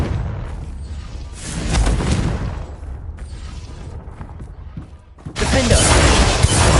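The Confringo blasting spell in Hogwarts Legacy goes off in a few loud booming bursts with rumbling crackle, separated by quieter stretches of combat noise, the last blast hitting hard near the end.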